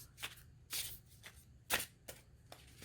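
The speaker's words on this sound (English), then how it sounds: "I'm gonna try to shuffle overhand." Tarot cards shuffled overhand, giving several separate crisp riffling bursts with short pauses between them, close and fairly quiet.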